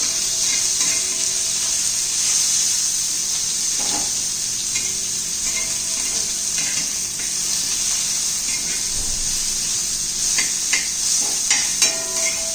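Chopped coriander sautéing in a pan for green tomato chutney, a loud continuous sizzle and hiss with occasional stirring scrapes.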